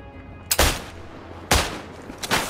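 Single-shot rifle fire in the World War I video game Isonzo: three sharp, loud reports spaced about a second apart, each trailing off in a brief echoing decay, with no voices.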